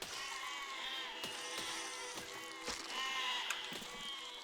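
Sheep in the Besiege video game give repeated wavering bleats, several overlapping at moderate loudness, with sharp clicks and thuds between them and no speech.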